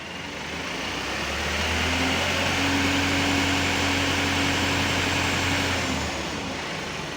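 A Mitsubishi Canter Euro 4 truck with a suspected injector, rail or supply pump fault revs up from idle, the diesel roar rising, holding steady for several seconds, then dropping back, heard close and loud.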